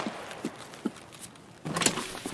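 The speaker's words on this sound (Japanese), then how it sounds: "え、なんか足音したよな。" Footsteps in the video game Escape from Tarkov: faint, evenly spaced steps at a distance, followed by a louder scuffing burst of movement.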